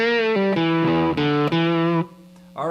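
A distorted electric guitar chugs a riff, loud and close, with a short pause before the next note starts.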